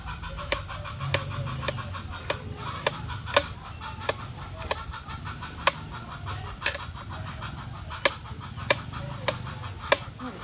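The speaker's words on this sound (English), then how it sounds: "Oh, the chicken is so noisy." A chicken in a rural yard in Tarlac province, Philippines, clucks in a rapid, regular series of short, sharp calls over a low background rumble.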